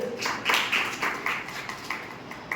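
Students in a Hindi-language numerology class clap for a classmate, a short patter of scattered hand claps at moderate distance that rises and tapers over a few seconds.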